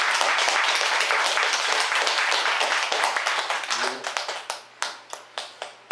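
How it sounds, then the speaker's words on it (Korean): A Buddhist temple congregation at a Wednesday Dharma service applauds warmly. The dense clapping gradually thins out into a few scattered, separate claps at the end. "다시 한번 박수 보내주십시다"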